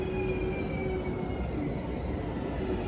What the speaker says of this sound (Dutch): Oh, ik zie al onze trein.